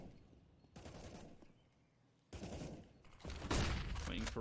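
Rapid bursts of automatic gunfire in Counter-Strike: Global Offensive during an Endpoint versus Movistar Riders competitive match. Loud, dense volleys arrive in separated clusters, with the final stretch the heaviest and most sustained.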